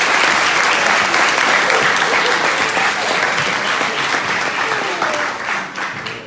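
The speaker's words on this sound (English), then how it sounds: "Give these folks a big round of applause." Loud, dense audience applause at a university hypnotist stage show, a full room clapping steadily and then thinning out over the last second.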